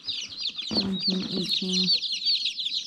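Young chicks peep in a steady high chorus inside a coop, close and continuous, while an adult hen clucks a few times in a short burst and a person counts aloud partway through.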